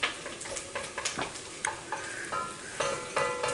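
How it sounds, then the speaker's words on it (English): Onions sautéing in a pot for Hungarian goulash, a steady close sizzle broken by repeated scraping stirs and light knocks of a utensil against the pot, with no talking. "the onions you're gonna cook till they're soft"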